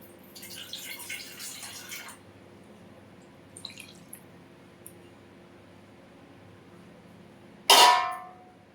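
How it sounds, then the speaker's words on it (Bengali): Water is poured into a cooking pot while preparing a prawn and young jackfruit curry. A splashy pour comes first, then a few faint drips, and finally a sudden loud gush near the end. "জল দিয়ে দিলাম।"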